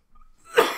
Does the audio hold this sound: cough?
yes